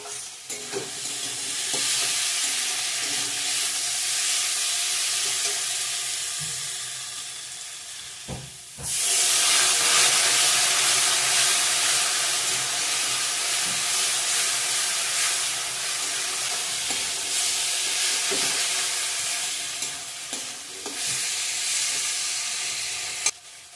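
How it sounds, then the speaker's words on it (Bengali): Chickpea ghugni masala with chopped tomato sautés in a pan, a close, constant sizzle with scraping stirs, dipping briefly before a louder burst of frying hiss. "ভালো করে কষিয়ে নেব।"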